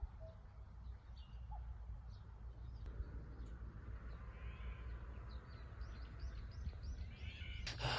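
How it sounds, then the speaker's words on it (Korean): Birds chirping outdoors, with scattered short calls and a few brief bursts over a steady low rumble of ambient noise. "새소리도 들리고요."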